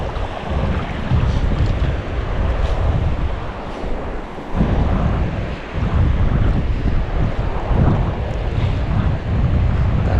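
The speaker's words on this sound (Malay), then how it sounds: "Dengan angin-anginnya, ombak tu dah kuat tu." Strong wind buffets the microphone over rough sea waves, heard from a small boat out shrimp netting at sea, a loud, continuous roar with no talking.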